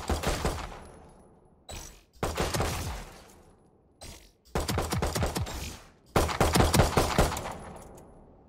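Classic pistol firing in the video game Valorant, heard as loud rapid volleys of sharp shots in several bursts with brief decaying tails and short pauses between them.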